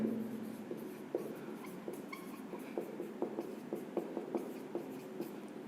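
Writing on a board during a chemistry lecture on reaction rates, a steady run of soft scratches and taps of chalk or marker, close and moderately loud, with no talk over it.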